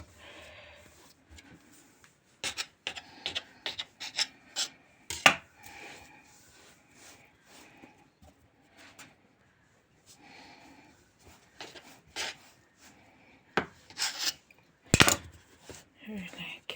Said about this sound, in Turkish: Şimdi kesiyorum. Birer açımlık hale getireceğiz hamuru.